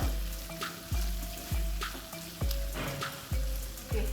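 Bitter gourd masala sizzles in a pan after garam masala goes in. A spoon knocks against the pan about every half second in a steady stirring rhythm over the continuous frying hiss.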